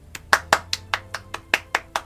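Applause in the Heavy Rain video game: about ten separate, evenly spaced hand claps in a slow steady rhythm, close and crisp over a low hum.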